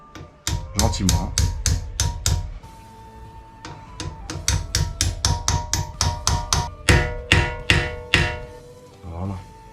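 A hammer gently taps a brake pad pin into place on a Mercedes W204 C63 AMG with the 6.2 M156 V8, a long run of quick, crisp metallic knocks in uneven bursts with brief pauses between them.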